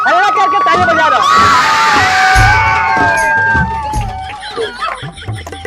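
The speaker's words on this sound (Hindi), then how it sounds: "हल्ला करके ताली बजा दो।" A crowd at a street magic and comedy show of a travelling madari erupts in loud cheering and shouting with children's yells and whoops, a brief burst of clapping and thumping, fading into scattered babble and calls.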